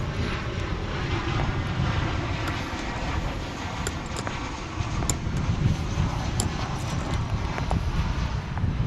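An airliner roars steadily at Dallas/Fort Worth Airport during takeoff, a loud, continuous low jet rumble with no break.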